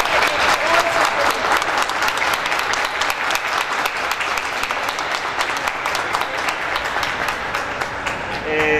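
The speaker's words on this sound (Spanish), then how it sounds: "darle un caluroso aplauso a Giovanni Piermattei" Warm, sustained applause from a crowd at the opening of a sexual diversity exhibition in Aragua, a dense, loud wash of many hands clapping steadily throughout.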